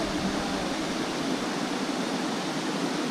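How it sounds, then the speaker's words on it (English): Steady broadband rush of river water flowing through Clifton Gorge near Yellow Springs, Ohio, captured from above; a continuous, even roar with no speech over it. "I'm just getting a shot of the river from above."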